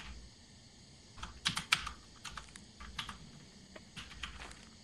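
Typing on a computer terminal keyboard in Lethal Company, quiet irregular clusters of key clicks with a few louder taps, alone with no talking.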